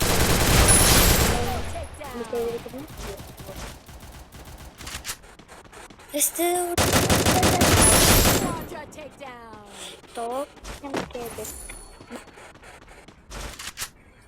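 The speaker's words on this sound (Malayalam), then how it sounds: "അകത്ത് വെടിപൊട്ടുന്ന അകത്തോട്ട് പോകാം." Loud bursts of rapid gunfire from an online shooter game, one long volley at the start and another midway, with quieter shots between while a player talks over the action.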